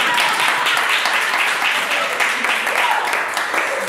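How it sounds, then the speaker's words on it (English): A concert audience applauding a singer at a music event, dense sustained clapping that fills the room evenly from start to finish, loud and close with no pauses. "Clap."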